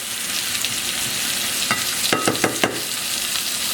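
Squash and zucchini sizzle steadily in a hot pan while a utensil scrapes and stirs through them in a quick run of strokes near the end, close and loud with no talking.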